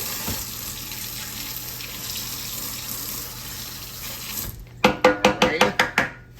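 Tap water runs steadily into a kitchen sink as a utensil is rinsed, a continuous wash that stops and gives way to a quick series of sharp clinks and knocks near the end, no talking.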